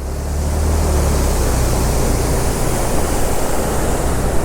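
Water from a mountain waterfall pours down hard and fast, a steady loud roar of rushing, splashing flow that fills the whole clip without a break.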